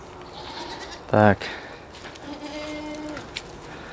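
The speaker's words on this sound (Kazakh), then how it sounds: "Таза альпийский лақ осындай болу керек." Alpine goats give a short, loud nasal bleat partway through, followed later by a softer, drawn-out bleat, with someone speaking briefly nearby.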